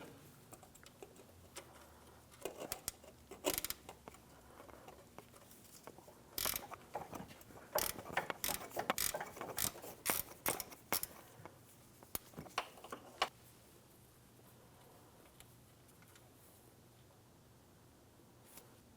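A ratchet wrench with a 19mm socket backs out a power steering hose fitting on a 2003-2008 Toyota Matrix: bursts of rapid close clicking ratchet strokes, uneven in rhythm, then tapering to quiet near the end.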